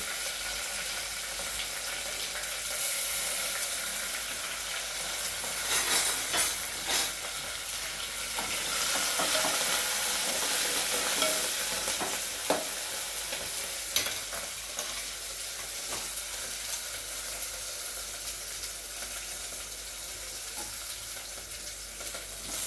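Green chillies sizzle and fry in a pan while being stirred, a steady close hiss of hot oil with scraping and clinking stir strokes scattered through, no talk.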